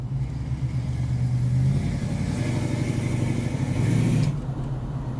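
A 1967 Ford Mustang Fastback's engine revs and pulls hard under acceleration, a loud, steady mid-range roar that rises and holds for several seconds before easing off near the end, with no talking.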